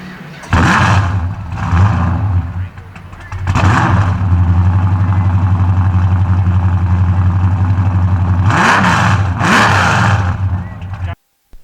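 A 1964 Dodge 330 Max Wedge with a 426 engine runs at a loud, steady idle close by, with a few throttle blips that swell and fall back near the start and end.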